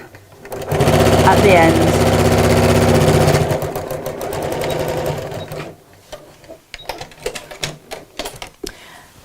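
A sewing machine stitches a seam on a fabric craft bag with pockets, running in a loud, fast buzzing burst, then a second quieter run, followed by someone speaking briefly and small handling clicks.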